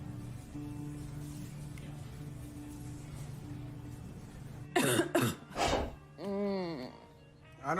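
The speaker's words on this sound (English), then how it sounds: "I don't like the sound of that cough" A person coughs several times in a short harsh burst, followed by a strained, wavering vocal groan, all close and loud after a quiet stretch of low background hum.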